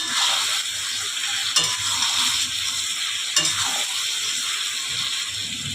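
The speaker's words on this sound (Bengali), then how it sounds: "আনাজগুলোকে একটু মশলা দিয়ে ভালো করে ভাজা ভাজা করতে হবে" Vegetables with spices sizzle steadily in hot oil in a pan, a loud continuous hiss broken by two brief stirring scrapes, close up and without speech.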